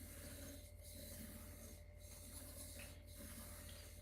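A blade drawn over a sharpening stone for a first attempt at a razor edge, giving faint, close, repeated rasping strokes at roughly one-second intervals over a steady low background hum.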